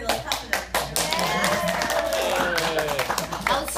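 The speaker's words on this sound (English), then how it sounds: "let's clap for them" A group of people claps for the participants of a tournament, a busy patter of claps mixed with voices and background chatter.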